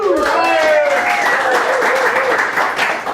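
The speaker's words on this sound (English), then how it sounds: "How about some polite applause for Ryan?" A studio audience on a talk show gives a polite round of applause, a steady wash of clapping that overlaps a voice at the start.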